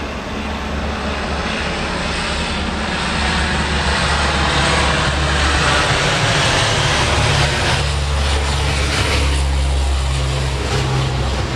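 A propeller airliner takes off at Grand Cayman's airport, its engine roar loud and steady throughout, rising slightly as it climbs away with a deep low drone and broadband wash.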